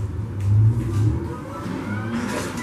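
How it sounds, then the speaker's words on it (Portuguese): A car engine revs under heavy throttle as the driver slips the clutch, moving off from a stop. The rising roar is close and loud, mostly at the start, and then settles into a steady drone. "Queima a embreagem, acelera pro carro sair."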